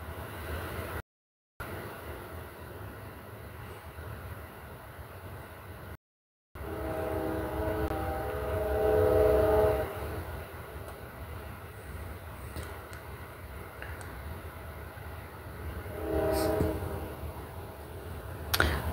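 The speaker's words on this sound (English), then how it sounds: "Another train, choo choo." A train passes at a moderate distance, a low sustained rumble of rolling wagons with horn-like tonal swells rising and fading in waves, the sound growing louder toward the middle and again near the end with no talk over it.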